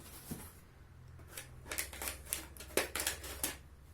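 Scissors snipping and slicing through cardboard of a shipping box in a quick series of irregular cuts, close by with small rustles between strokes.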